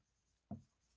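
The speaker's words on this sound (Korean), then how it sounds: "이렇게 쓰는 게 맞을 거예요." A single short scratch of handwriting, quick and close, in an otherwise quiet room.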